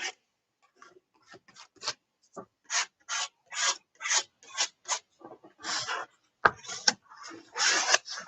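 Art supplies scraped across a journal page in short raspy strokes, some quick and clustered, others longer, close and fairly loud with brief pauses between bursts and no talk.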